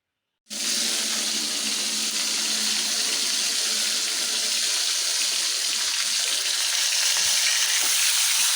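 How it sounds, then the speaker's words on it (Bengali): A fish is rinsed under a running kitchen tap, a steady loud gush of water that starts suddenly and pours without a break, with a few faint thumps of handling near the end. "এই যে মাছটাও এখন ধুয়ে নেব"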